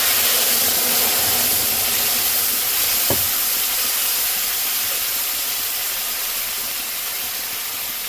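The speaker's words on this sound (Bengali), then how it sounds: "তেলে ফোড়ন দিয়ে দেবো। তেজপাতা, জিরে, বেটে রাখা মশলাটা দিয়ে দিচ্ছি।" Bay leaf, cumin and ground spice paste sizzle in hot oil for a Bengali rui fish curry, a loud, steady, close hiss that runs throughout, broken by a single brief clack partway through.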